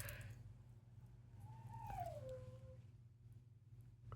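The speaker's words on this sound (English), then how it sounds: "Why is the dog howling?" A single dog gives one faint, drawn-out howl that rises and then falls, far in the background over a steady low hum.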